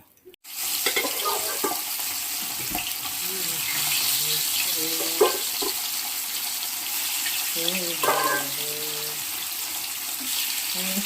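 Dal cooks on a home stove with a steady, fairly loud bubbling sizzle that runs throughout, while faint voices murmur in the background now and then.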